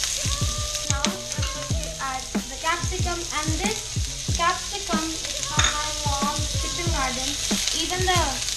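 Capsicum, garlic and carrots sizzle in a pan with a constant close hiss, while repeated stirring clatters and scrapes punctuate it and a voice talks over the cooking.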